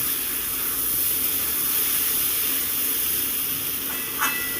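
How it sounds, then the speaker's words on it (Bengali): Fried potatoes sautéed with spices in a pan give off a dense, continuous hissing sizzle that stays even and close throughout, with one small scrape near the end and no voices. "এবার দেখুন আলুটা দিয়ে দিলাম ভাজা আলুটাকে দিয়ে ভালো করে একটু কষিয়ে নেব"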